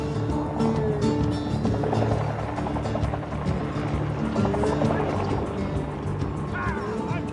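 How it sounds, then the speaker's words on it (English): A helicopter herding buffalo, its steady droning rotor chop close and continuous, with a faint voice underneath. "herding the buffalo is done by helicopter."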